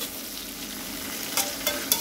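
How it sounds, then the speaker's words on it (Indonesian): Sardine curry being stirred in a pan while it fries, with a steady soft sizzle and a few brief scraping clinks of the utensil near the end. "Kita aduk pelan-pelan supaya bumbunya merata."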